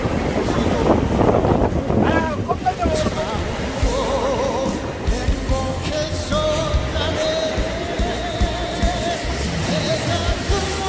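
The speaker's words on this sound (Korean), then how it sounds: "파도." Sea waves rolling onto the shore at Yeongheungdo island, a continuous rushing surge heavily mixed with gusting wind buffeting the microphone, with people's voices chatting nearby over the roar.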